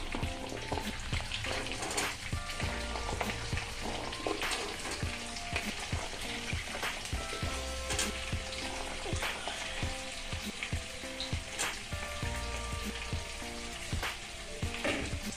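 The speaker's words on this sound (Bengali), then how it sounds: "ক্যাপসিকাম আর পেঁয়াজগুলোকে আমি ভালো করে একটু ভেজে নেব, তবে খুব লাল করে ভাজবো না, হালকা তেলে এটাকে আমি ভেজে নেব" Capsicum and onion fry lightly in a little oil, a steady close crackling sizzle with occasional stirring clatter throughout.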